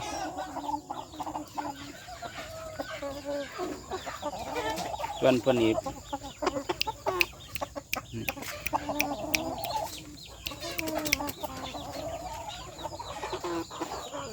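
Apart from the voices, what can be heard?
young roosters clucking and crowing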